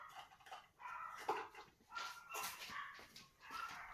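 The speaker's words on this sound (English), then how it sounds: "My dogs are barking." Household dogs bark and whimper indoors in the background, several faint yelps and barks spread across the clip, heard from another room.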